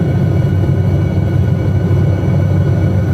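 Steady, loud low rumble of an SA315B Lama helicopter in flight over Lofoten, Norway, heard from inside as a continuous engine and rotor drone with no gaps and no talking.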